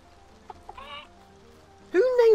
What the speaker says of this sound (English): Who names a chicken Letitia?